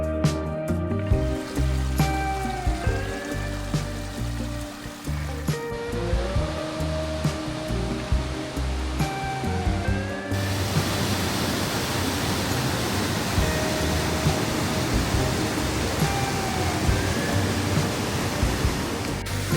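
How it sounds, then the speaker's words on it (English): Sol Duc Falls in Olympic National Park plunges about 48 feet into a narrow rocky canyon, giving a broad steady roar of rushing water; an instrumental music passage plays over it before the falls sound alone. "This waterfall plunges about 48 feet into a narrow, rocky canyon."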